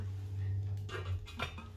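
A cooking pot with a lid being handled in a kitchen gives a few light metallic clinks and knocks over a steady low hum, with no talking.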